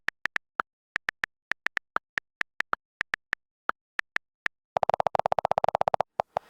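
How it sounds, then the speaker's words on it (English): Apple iOS 10 keyboard clicks, crisp isolated taps in an uneven typing rhythm, some keys pitched differently, ending in a rapid burst of quick presses with a few final taps, close and clear with no talking. "iOS 10 also comes with new keyboard sounds, which have different tones depending on which key you're striking."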